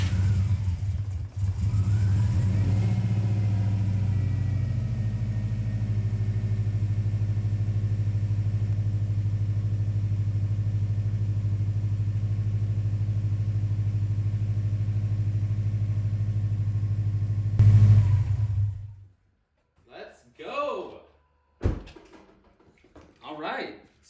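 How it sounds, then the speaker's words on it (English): A Subaru STI engine cranks and catches, then runs steadily with a low, even drone before cutting off; brief voices follow at the end. "So she runs. Engine sounds pretty good."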